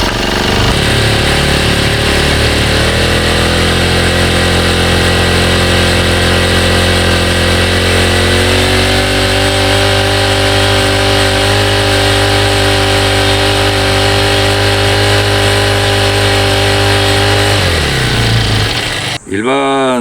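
A four-stroke brush cutter engine runs loud and close, its steady single-cylinder drone rising as the throttle is raised above idle, then cutting off abruptly near the end.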